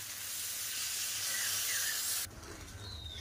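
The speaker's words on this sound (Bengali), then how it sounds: "এবার আমি জল দিয়ে দেব।" Water poured into a hot pan of spiced potatoes gives a loud rushing hiss and sizzle that cuts off abruptly, leaving a softer bubbling simmer.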